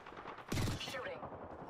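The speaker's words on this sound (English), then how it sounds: "Shooting." Burst of gunfire in the Apex Legends battle royale, a short loud volley of shots lasting about a quarter second, set against steady game ambience.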